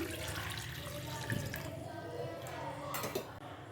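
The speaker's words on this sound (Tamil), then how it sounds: "இதில் வந்து ஒரு 3 கிளாஸ் தண்ணி ஆட் பண்ணிடலாம்." Water running steadily into a pot for an herbal kashayam, a continuous splashing wash with a couple of brief clinks near the start and end.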